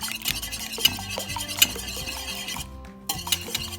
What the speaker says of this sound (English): I'm just going to scramble lightly here